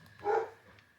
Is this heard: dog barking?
yes